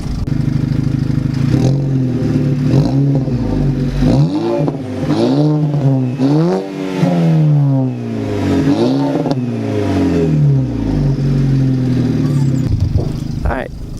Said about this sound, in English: So it's like full custom exhaust. So I'll kind of let you guys hear what this sounds like here.